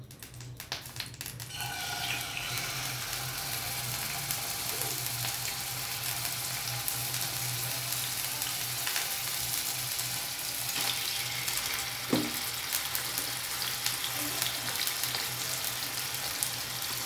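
Liver fries in a hot pan with a steady, crackling sizzle that continues evenly throughout, with a few light clinks near the start and no talking.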